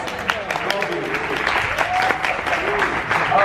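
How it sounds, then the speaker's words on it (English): Audience applause at a press conference for a singer, a steady sustained clapping from a crowd filling the room, with voices faintly mixed in. "Round of applause."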